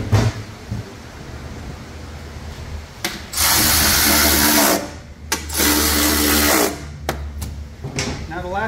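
A power tool tightens bolts on a 30-inch Craftsman/Troybuilt riding mower deck in two loud sustained bursts, with short clicks and a few brief whirs in between, close by.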